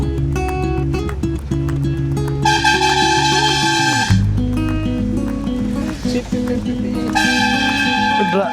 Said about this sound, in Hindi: ड्राइवर भाई साहब को देखो हमारे, इतना हॉर्न क्यों बजाते हो?